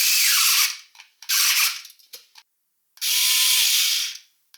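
A Parkside PMSA 4 A1 cordless 4V multi-cutter saws through reinforced cardboard in three separate loud, close buzzing bursts of about a second each, with short pauses between them.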